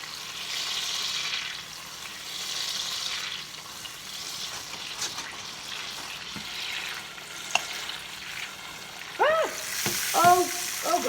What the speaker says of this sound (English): The butter is going crazy.